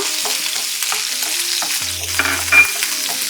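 Chopped garlic frying in hot melted butter in a pan, a constant loud sizzle with light stirring scrapes and a brief low hum partway through, no talking.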